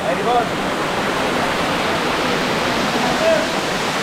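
A Rangamati waterfall drops from a great height, producing a loud, steady, unbroken rushing roar close by that fills the whole stretch, with faint brief tones barely rising above it.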